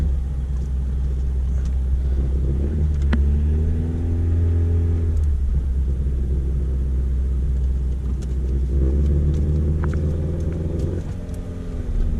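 A car with traction bars driving around the block, engine rumbling loudly from inside the cabin, rising and falling as it accelerates and shifts, with no talk.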